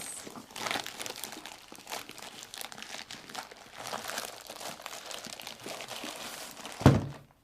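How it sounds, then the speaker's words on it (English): Plastic film torn and peeled off a new Cricut Maker cutting machine, a continuous close crinkling and rustling that ends with a single dull thunk. "Take off the plastic."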